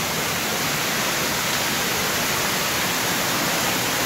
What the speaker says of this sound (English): It's made worse by the fact there's a waterfall going down it.